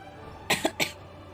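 Two or three quick, soft coughs close by in a quiet room, clustered within about half a second.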